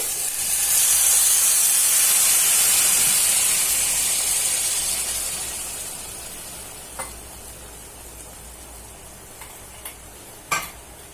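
Tamarind juice poured into a hot pan of spicy Andhra-style dry fish curry sets off a loud, steamy hiss that swells at once and slowly fades over several seconds, followed by a few light clinks.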